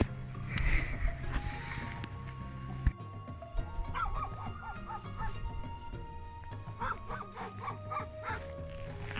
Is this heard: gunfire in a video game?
no